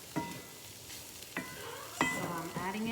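Two cooked large eggs get stirred into cauliflower fried rice in a pan, the utensil scraping in a few distinct strokes over a steady close sizzle.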